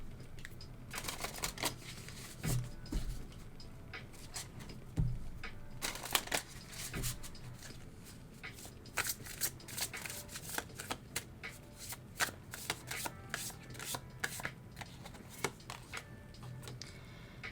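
Someone shuffles a We Are Here Oracle card deck in repeated quick riffling bursts with crisp slaps, close and fairly quiet, and no one speaks.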